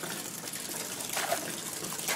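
A Moons Harvest bath bomb fizzes and bubbles in bath water, a steady soft hiss with brief liquid surges, close and alone without talk.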